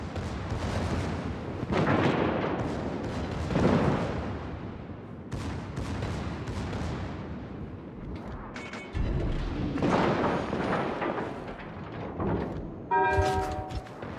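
Ship guns aboard the German battleship Brandenburg in World of Warships fire in repeated booming salvos, deep blasts recurring every couple of seconds with rumbling tails and little talk.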